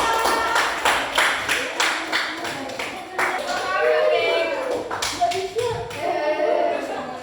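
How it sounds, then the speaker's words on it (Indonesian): Children in a classroom clap together in a burst of quick, uneven rhythmic claps that rises and fades, with voices of kids talking and calling out over and between the claps. "Tepuk tangan."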